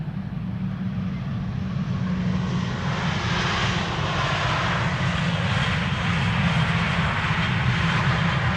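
A ten-year-old Airbus A320 airliner arrives at Amsterdam Schiphol, its engines a steady close roar with a low hum and broad rushing hiss that swells slightly toward the end, no voices.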